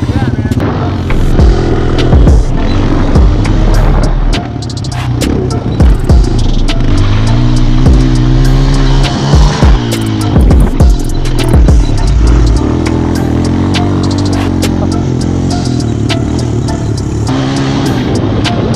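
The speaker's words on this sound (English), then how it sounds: "Shifting with no clutch." An off-road vehicle drives over Arizona sand dunes, its engine revving and dropping as gears are shifted without the clutch, with rattling and clatter throughout; loud and close, with people talking over it.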